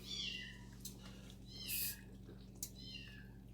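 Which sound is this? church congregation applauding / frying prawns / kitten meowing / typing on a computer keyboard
kitten meowing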